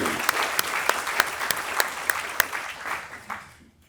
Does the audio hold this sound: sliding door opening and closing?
no